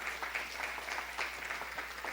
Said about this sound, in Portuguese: Aplauda novamente a vida do nosso professor.